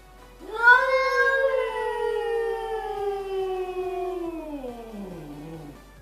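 A cat lets out a long, wavering yowl that slowly slides downward in pitch, sustained for several seconds and fading into a low moan at the end.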